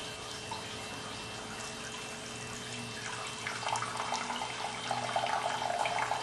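Water poured steadily onto a disposable diaper, about 500 millilitres, a soft continuous splashing stream that grows slightly louder and more spattery toward the end, heard close with no talk.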